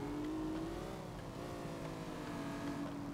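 A Lamborghini in the driving game City Car Driving hums along with a steady synthesized engine tone that rises slightly and then holds, quiet and continuous with no voices.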